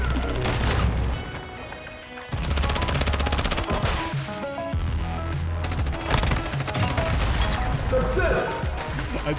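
Gunfire in a first-person shooter video game, dense bursts of rapid automatic shots and heavy blasts layered over game music and effects, loud and continuous with a brief lull, with a voice reacting underneath.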